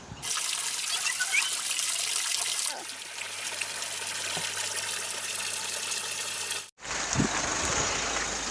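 Water measured out and poured in for a mini water pump test, a steady broadband rush of flowing water filling most of the clip, briefly cut off near the end before resuming.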